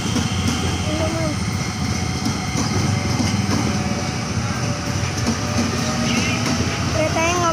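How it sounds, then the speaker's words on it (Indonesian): An eight-car JR 205 series commuter train bound for Bogor rumbles past at speed close by at Bukit Duri, with a loud, steady roar and faint rhythmic clatter, a brief high squeal and muffled voices underneath. "Keretanya ngebut kan bener kata saya."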